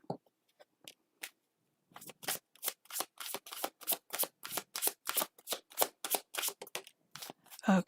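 Tarot cards are shuffled up close. A few scattered riffles open, then a long, fast run of rhythmic card snaps follows, with no speech.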